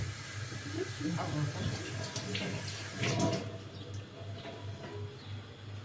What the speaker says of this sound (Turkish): Elimizi de yıkayalım.